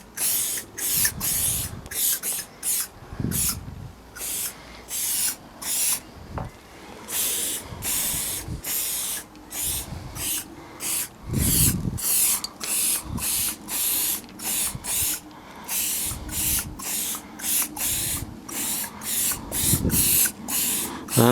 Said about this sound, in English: We'll give this a quick shake.